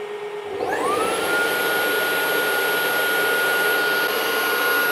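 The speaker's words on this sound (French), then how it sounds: "Le rouleau brosse est frotté et ensuite l'eau va être réaspirée." A UWANT D100 wet vacuum starts its self-cleaning cycle, the motor spinning up from a low hum into a loud steady whine with a high pitched tone, sucking water back from the roller brush without pause.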